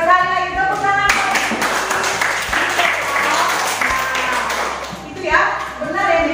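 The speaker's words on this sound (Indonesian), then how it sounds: "Sekali lagi tepuk tangan." Classroom applause: students clap together briefly and loudly, with a teacher speaking before and after and a steady hum underneath.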